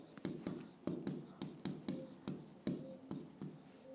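Pen on paper writing, a quiet close run of rhythmic scratchy strokes about every half second, fairly faint and steady.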